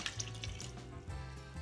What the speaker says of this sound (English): So we add to that 210 grams of lukewarm water.